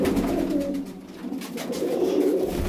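Teddy Patti pigeons cooing in a low, steady, throaty murmur that continues without pause, close and moderately loud.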